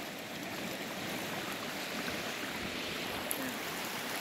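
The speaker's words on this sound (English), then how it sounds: "Now we are at the river." River water flowing outdoors, a continuous soft rushing wash, steady and fairly faint, with a couple of tiny clicks near the end.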